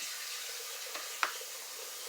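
Steady hiss of tap water running into a bowl in a kitchen sink, even and fairly close, with a couple of faint knocks and no talk.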